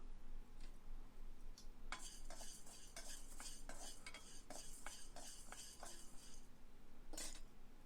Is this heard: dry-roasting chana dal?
yes